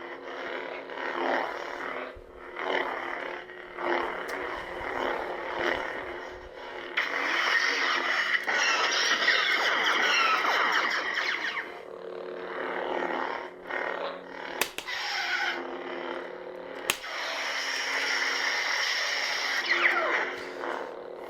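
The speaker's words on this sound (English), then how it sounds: "this is the sound of Disney Saber." A low electronic hum drones continuously with rising and falling whooshing swells and occasional sharp clashing bursts, like a Disney toy lightsaber being swung.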